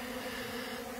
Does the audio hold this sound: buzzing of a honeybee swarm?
yes